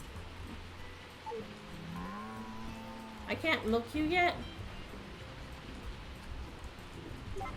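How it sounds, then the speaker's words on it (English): Heavy rain in the farming video game Story of Seasons falls as a steady, soft hiss that runs throughout, with a person talking over it and brief game sound effects in the middle. "I don't think it's actually rained this hard on the game yet, so it's nice getting to hear the"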